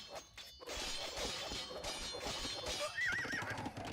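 Horses of Magyar knight cavalry in a real-time strategy video game whinny and clatter amid a dense battle mix of hooves, clashing weapons and crashing impacts, with one clear neigh rising near the end.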